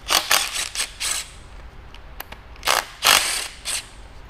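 Bolts being worked loose from the end plate of a Battioni rotary vane pump, heard as several short metallic ratcheting bursts, clustered early and again near the end, close and fairly loud with no talk.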